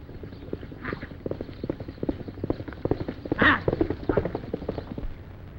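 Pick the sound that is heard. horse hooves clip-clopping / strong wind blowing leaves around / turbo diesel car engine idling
horse hooves clip-clopping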